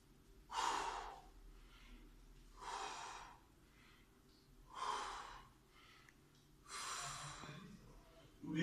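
Four slow, loud breaths, each a forceful inhale-exhale, during an intensive squat workout, close to the mic and evenly spaced with quiet gaps between them.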